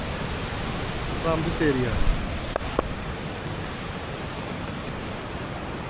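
Water flows along a large irrigation canal, a steady, soft, broad wash heard from nearby, with a brief spoken phrase and a couple of faint clicks over it.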